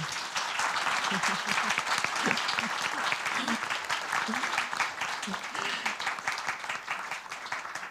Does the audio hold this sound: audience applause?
yes